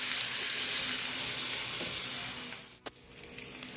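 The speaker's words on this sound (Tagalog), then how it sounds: "Pabuto na siya na mo brown" Meat for Filipino dinuguan sizzles and pops in oil, a continuous close frying hiss that dips near the end, broken by a sharp clack and a few small spatters.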